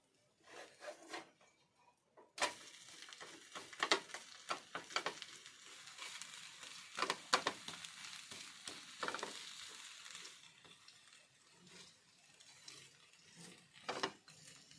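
Onion dosa frying on a hot pan, a broadband sizzle with scraping and rubbing sounds from turning or flipping, fairly close and steady with intermittent louder scrapes, no speech.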